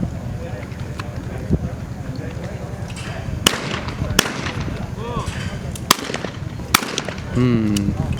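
Sharp 28 gauge shotgun reports ring out at a world skeet championship, several distinct cracks spaced a second or so apart, mid-distance over steady outdoor background with people talking.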